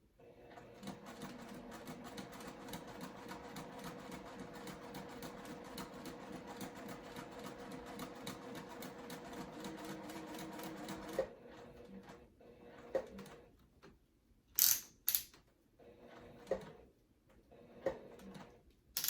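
A domestic sewing machine runs in a steady, fast stitching rhythm, close and fairly loud, while sewing a zippered crossbody bag. It stops partway through, leaving short clicks and handling noises with brief pauses.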